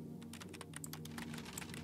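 Rapid keyboard typing sound effect from a social engineering video game, a steady run of crisp clicks over a low background music hum, with no talking.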